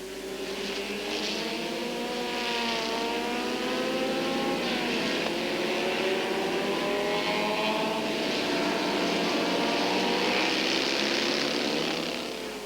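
Several vintage racing car engines, including an Elva MK2 and a Cooper with a 1600 cc Coventry Climax engine, roar continuously on a circuit, pitches rising and falling as they pass and shift, loud and fairly close with no talking.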